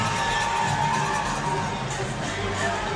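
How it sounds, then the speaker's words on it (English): The crowd at a hockey game between the Prowlers and Sentinels roars and cheers continuously, a dense, loud wash of shouts and whoops throughout. "I'm sure you guys can hear the crowd too. They're getting into it too."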